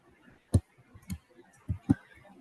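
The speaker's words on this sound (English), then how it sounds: "You can just click on finish." Computer mouse clicks, four short, sharp, close taps spaced unevenly over a couple of seconds against near silence.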